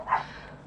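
A brief, faint dog bark from somewhere in the house, a single muffled yelp lasting under a second.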